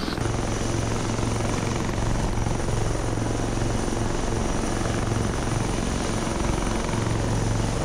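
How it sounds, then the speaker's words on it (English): Steady, loud rotor thrum and turbine whine of a helicopter passing close in ARMA 3, a continuous near drone that barely changes for several seconds with no talk over it. "Yo, the chopper got close there."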